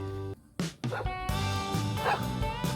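A dog barks out in the open countryside, giving a few loud, close barks and yips in quick succession with short pauses between them.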